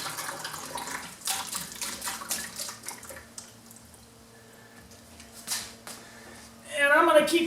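Water splashes and trickles in uneven bursts while a dead car battery is being flushed out, with quiet gaps between pours. A voice cuts in briefly near the end.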